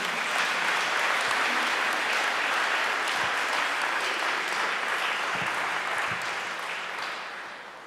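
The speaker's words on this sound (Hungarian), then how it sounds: "kérnék szépen egy nagy tapsot" Loud, sustained applause from a large audience fills the space, dense and even, fading gradually toward the end.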